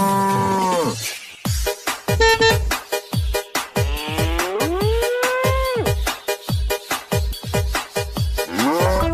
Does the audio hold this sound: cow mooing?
yes